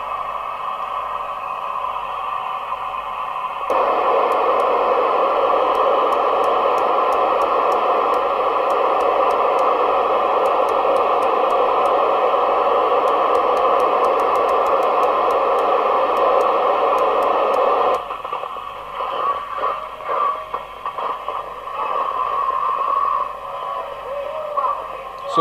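Harvard 420M UK FM CB radio with its aerial connected, tuned between channels, gives a loud steady hiss and hum for about 25 seconds, ending in choppy crackling static bursts.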